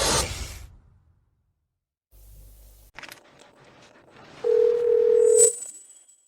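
A disposable phone gives a steady electronic dial tone lasting about a second, preceded by brief handling noises and clicks in an otherwise quiet room.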